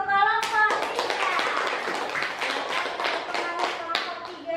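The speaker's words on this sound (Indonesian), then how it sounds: "Kita kasih tepuk tangan dulu untuk kelompok 3." Pupils in a classroom science lesson applaud a presenting group with brisk, close hand claps that run steadily throughout. Children's voices and chatter mix in over the clapping.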